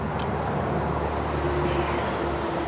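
Steady roadway traffic noise from a car passing on a nearby road, a constant broadband rumble with a faint tonal hum, heard from a back porch or deck without anyone talking.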